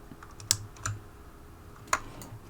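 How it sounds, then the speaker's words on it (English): A loud computer keyboard clacks in a few sparse, separate keystrokes close to the microphone, with quiet pauses between them. "I hate how my keyboard's so loud."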